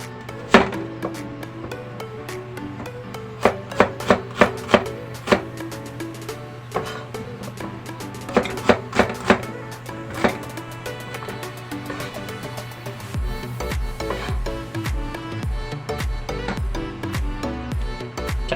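A knife chops an onion on a cutting board while humba with eggs is prepared, a steady run of sharp, close taps that are quick and rhythmic at first, then give way to a low, continuous rumble.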